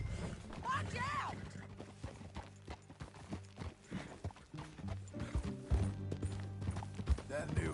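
Horse hooves clip-clop in Red Dead Redemption 2, a steady trotting rhythm running through the whole stretch beneath music and other game sounds, with a voice speaking over it.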